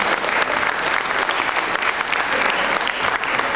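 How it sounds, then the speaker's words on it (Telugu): An audience at a Sankranti celebration of a Telugu association in North Texas claps continuously, a dense, loud and even burst of applause in an indoor hall that holds steady throughout. "ఒకసారి గట్టిగా క్లాప్స్ అండి"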